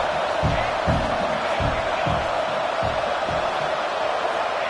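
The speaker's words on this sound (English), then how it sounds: "Crowd trying to make a difference here on 4th down." A football stadium crowd roars on a 4th down play, a dense, distant wall of cheering and noise with rhythmic rises like stomping or chanting beneath it.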